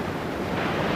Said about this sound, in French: La vague arrive!